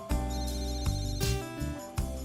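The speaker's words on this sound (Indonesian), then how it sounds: "menerima sebuah telepon masuk" A telephone rings with an incoming call, repeated electronic ring bursts at a steady rhythm, close and clear with no talking.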